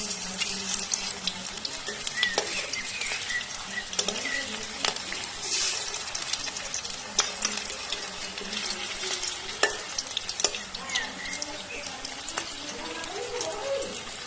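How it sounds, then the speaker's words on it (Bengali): Cabbage pakoras fry in oil with a continuous close sizzle while a utensil turns them over, giving scattered clinks and scrapes throughout. No one speaks. "পকোড়াগুলি একে একে ভালো করে উল্টে পাল্টে লাল লাল করে ভেজে নেব।"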